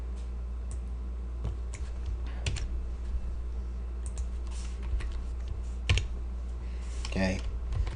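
Typing code on a computer keyboard, with scattered key clicks and taps over a steady low hum, close and moderately quiet, with a brief burst of faster keystrokes near the end.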